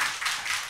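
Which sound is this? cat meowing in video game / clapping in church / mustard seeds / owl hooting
clapping in church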